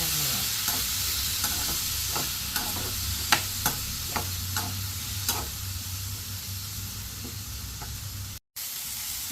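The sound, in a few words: ridge gourd and tomato frying for chutney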